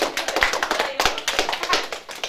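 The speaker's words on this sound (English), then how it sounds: "We need to give a large round of applause to Mr. K.I.S. for helping us out today." Small group's round of applause, dense overlapping hand claps up close, steady and lively for a couple of seconds with no talk.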